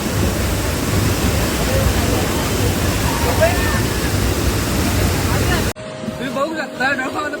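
A sudden cloudburst downpour at Dolkhamb pours down with rushing water, a dense, loud, steady roar that cuts off abruptly near the end, leaving quieter background with a faint tone and murmurs.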